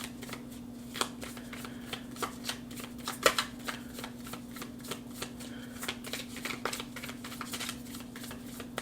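Tarot cards being shuffled by hand during a reading, a steady run of crisp riffling flicks over about nine seconds with one sharper snap near the middle, fairly quiet against a constant low electrical hum.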